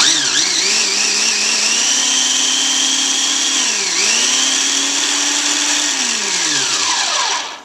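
A countertop blender pulses walnuts into a pesto mixture, its motor whirring loud and close in a steady run with a brief dip in pitch midway, then winding down at the end.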